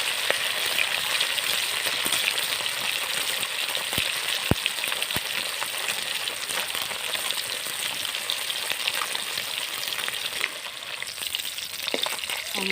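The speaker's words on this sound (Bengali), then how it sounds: "মাছগুলো সুন্দর লাল লাল ভাজা হয়ে গেছে," Fish frying in a pan sets up a loud, steady sizzle and crackle that runs throughout, broken by a few sharp pops. No one speaks.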